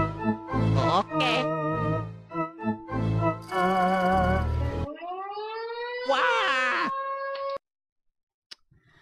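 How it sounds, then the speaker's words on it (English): A low-quality vehicle siren wails with a warbling, rising and falling tone that sounds harsh and thin. It is preceded by other muddled tones, then cuts off abruptly into near silence. "That is a siren from a vehicle."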